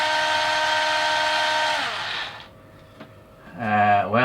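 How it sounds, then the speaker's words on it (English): A DeWalt electric drill boring holes in plastic, its steady motor whine running for about two seconds before winding down, then a brief pause and a fresh spin-up near the end, close and loud. "Sadly, I wish this drill was a little bit faster."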